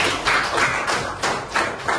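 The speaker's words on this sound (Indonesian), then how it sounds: "Oke, tepuk tangan buat kita semuanya." Applause in a classroom, with a few bursts of clapping that swell and fade over about two seconds, nearby and fairly loud, with no voices heard.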